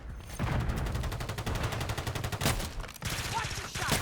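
Taq Eradicator light machine gun firing in Call of Duty: Modern Warfare III, with rapid sustained bursts of automatic fire, a brief gap, then another long burst, loud and close.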